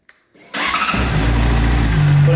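Honda CBR600RR motorcycle engine starting up: a brief click and starter whir, then the engine catches and settles into a loud, close, steady idle.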